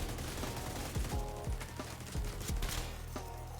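Repeated gunshots from The Division 2 ring out in quick uneven bursts, sharp loud cracks landing close together over a steady game background with no talking.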